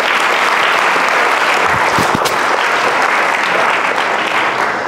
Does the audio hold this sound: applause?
yes